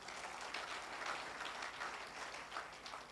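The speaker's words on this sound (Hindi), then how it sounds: "उनके लिए जरा जोर से ताली बजाइएगा" Audience applause at an insurance agents' division event, a steady patter of many hands clapping together, fairly faint and distant, with no talk over it.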